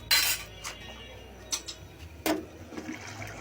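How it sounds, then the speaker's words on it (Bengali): A metal lid is set over a pot of prawn and onion-stalk curry, giving a few short, close clanks and clatters against a low kitchen background. "এখন এটা আমি ঢেকে দিব সিদ্ধ হওয়ার আগ পর্যন্ত।"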